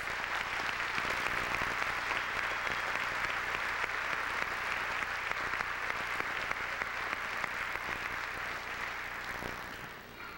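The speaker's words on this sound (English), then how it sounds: "Please give him a round of applause." A graduation ceremony audience claps in sustained, even applause, a broad crowd of hands pattering steadily for about ten seconds before easing slightly at the end, with no one speaking.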